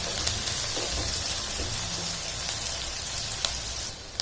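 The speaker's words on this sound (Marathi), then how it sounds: "इथे टाकते मी थोडासा हिंग। थोडंसं परतवून घेऊया कांद्यांना।" Chopped onions and a pinch of asafoetida sizzle steadily in a hot pan, a continuous close, even frying hiss with faint scattered crackles throughout.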